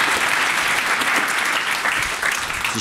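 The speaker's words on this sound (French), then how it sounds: "on peut applaudir Monsieur le Ministre" An audience at an e-health conference opening session in France applauds the health minister with sustained, dense clapping that holds steady throughout and stays fairly loud, with no talk over it.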